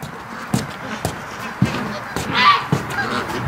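Geese honk in a scattered series of sharp calls a little distance off, with steady outdoor rustle between them, near a duck-raising yard.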